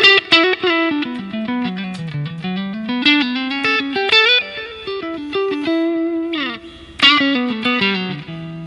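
Electric guitar with a clean tone through an Orange OR80 amp model on a Line 6 Helix, single notes and short phrases played loud and alone, ringing with light effects.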